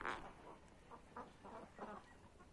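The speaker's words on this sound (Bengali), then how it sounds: "এই যে আমার হাঁস একটা বাইরে বের হয়েছে" Ducks kept in a small enclosure on a backyard duck farm, several faint, soft quacking calls in a short, uneven series, heard from some distance.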